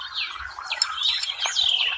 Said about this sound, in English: You hear the birds?